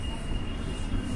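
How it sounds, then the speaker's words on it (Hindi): A Delhi Metro train on the line toward Maujpur and Babarpur, heard as a steady broadband rumble of the carriage with a faint high whine, continuous and fairly loud. No distinct door-opening sound stands out. "और ये मेट्रो हमारा स्वागत करता हुआ द्वार हमारे लिए खुलता हुआ"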